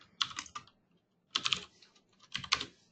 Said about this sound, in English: if I go ahead and start typing, it will automatically put in the phone number mask